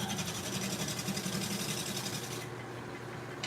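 Continuous broadband rasping of a lathe tool cutting a spalted pine bowl, with a rapid fluttering chatter as it passes through a knot, steady and close throughout.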